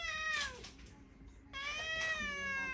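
Excited cats meow over tuna and salmon, with two close, drawn-out meows separated by a short gap.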